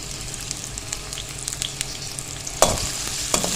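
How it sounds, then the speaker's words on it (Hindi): Half a cup of oil with one medium sliced onion fries in a pan for pulao, a steady close sizzle and crackle with a couple of sharper stirring clatters near the end, no voices. "तो सबसे पहले हम पैन में डालेंगे 1/2 कप के करीब ऑयल, बस। और उसके बाद इसमें जाएगी स्लाइस में कटी हुई 1 प्याज।"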